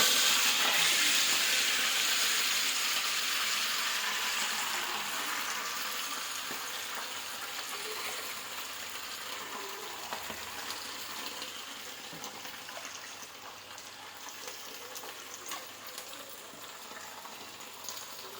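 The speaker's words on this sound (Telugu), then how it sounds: "పాలకూరని బాగా ఇలా వాష్ చేసుకొని ఆయిల్లో ఫ్రై చేసుకోవాలి." Washed spinach and curry leaves fry in hot oil in a pan, giving a continuous broad sizzling hiss that starts strong and slowly fades and settles over the stretch, with no voices.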